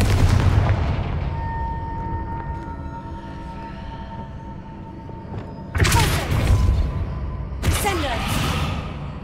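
Two loud, sharp blasts from a Confringo fire spell in Hogwarts Legacy, the second following the first after a short gap, each a broadband burst with a crackling tail, set over steady low rumbling game ambience.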